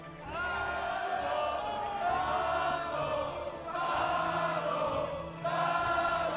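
A large esports crowd at an Age of Empires tournament roars and chants together in sustained waves of cheering, loud and continuous with brief dips between surges.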